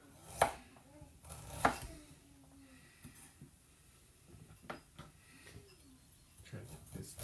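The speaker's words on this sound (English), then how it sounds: "And you just do a small dice like you would anything else." Sharp knife dices vegetables on a cutting board, a couple of loud strikes then lighter scattered taps, with a voice talking softly in between.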